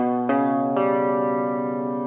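Tape wow effect on the SampleTron vintage tape-modeling sampler, a sustained harmonic tone whose pitch bends and wobbles, with two sharp jumps near the start, loud and alone with no talk.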